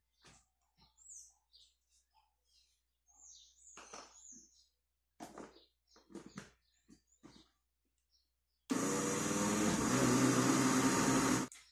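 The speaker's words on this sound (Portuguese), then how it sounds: "Agora eu vou colocar o coco ralado e deixo só dar uma leve batida." A kitchen blender briefly whirs through pudding batter with grated coconut added, a loud steady motor burst of about three seconds arriving after quiet scattered handling noises.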